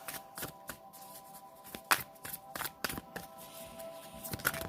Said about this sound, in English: These are the Sacred Destiny oracle cards by Denise Lynn.